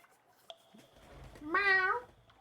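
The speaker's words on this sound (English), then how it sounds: "if you hear a meowing in the distance" A cat named Tiberius gives one clear, close meow lasting about half a second, preceded by a faint click and a soft squeak in otherwise quiet surroundings.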